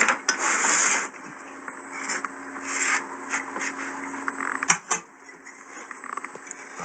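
A plaster cast is smoothed by hand to remove mould marks left by boards, making close, dry scraping and rubbing strokes, a long broad rasp first and then shorter irregular scrapes and taps.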